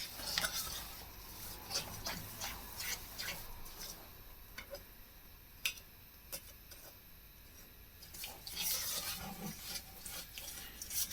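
Eggs and sugar are whisked for a mandarin drizzle cake in a bowl, giving soft scraping and rubbing strokes with occasional clinks of the whisk against the bowl. The sound is quiet and close, with no talk.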